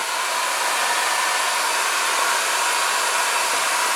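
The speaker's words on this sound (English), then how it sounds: "there's just hot air coming from the hairdryer." A hair dryer blows with a steady, loud, even whoosh of air that holds unchanged throughout.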